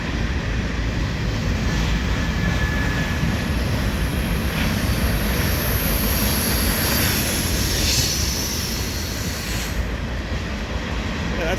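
A southbound grain train rolls past close by in a continuous loud rumble of wheels and cars, steady throughout with no voices.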